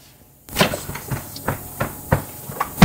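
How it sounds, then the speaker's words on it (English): A car brake pedal pumped repeatedly during disc brake assembly work, giving about seven sharp, evenly spaced mechanical knocks and clunks, close and fairly loud, with no talking. "as I pump the brake pedal"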